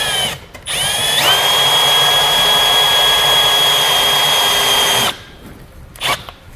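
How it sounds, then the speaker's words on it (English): A small drill bit whines steadily at close range for about four seconds, drilling out a plastic rivet from the bumper fascia of a 2015 BMW X5. It is a high continuous tone with a sharp start and stop, then quiet. "You want to drill it until that rivet comes out and it's freed from the fascia."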